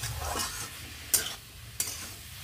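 A prawn and radish dish fries in a pan with a steady, soft sizzle, broken by two sharp scrapes of a stirring utensil.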